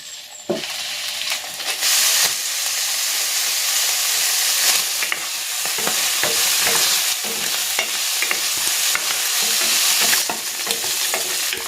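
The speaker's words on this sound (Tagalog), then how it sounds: "Isasalang ko muna itong liempo" Pork belly slices sizzle steadily in hot cooking oil in a pan, a loud continuous frying hiss with scattered crackles and pops running throughout, no voices.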